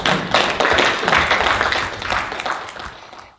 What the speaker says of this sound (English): Neal needs a lot of applause